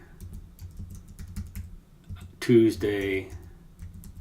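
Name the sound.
typing on a computer keyboard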